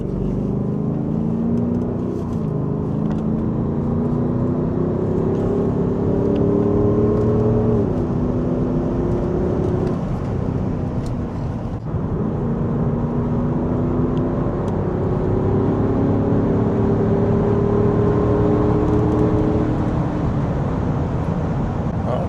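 Wind rushes past the mirrors of an Audi SQ8 TDI driving at speed, a steady broadband hiss over the low drone of the engine and tyres, rising and falling slightly with pitch sweeps, no voices.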